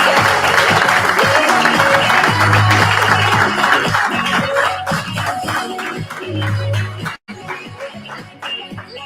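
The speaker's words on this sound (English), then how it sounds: "Again, another round of applause." A large audience applauds continuously and loudly for an award winner at an educators' showcase event in Western Australia, sustained clapping that dips briefly before resuming.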